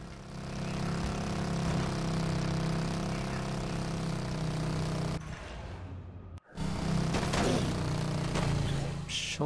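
A motorcycle engine in the video game Dead Rising 3, running at a steady hum that cuts out sharply for a moment before picking up again, with faint clatter.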